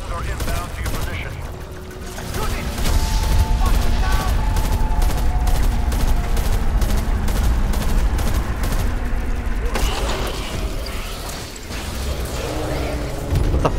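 Sustained gunfire and mechanical clatter from a shooter video game fill the stretch, loud and dense, with a brief dip near the end before the shooting resumes. Speech may sit underneath.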